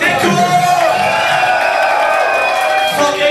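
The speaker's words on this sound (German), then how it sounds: "ein Applaus für Echo und für Daniel" An audience at a rap event in Bielefeld cheers and applauds for two rappers, loud and close, with whoops and shouts over a continuous roar of clapping.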